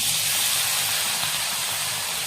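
Lentils dropped into a hot oil tempering of mustard seeds, dried red chillies, curry leaves and shallots in a pan produce a dense, continuous loud sizzle and hiss from start to finish, with no voices.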